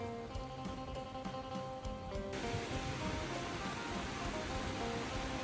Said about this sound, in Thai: มันก็จะได้ยินเสียงแบบบรรยากาศฝนตกนะครับ ผมแล้วก็เสียงรถนะครับที่ ผ่านไปผ่านมานะครับ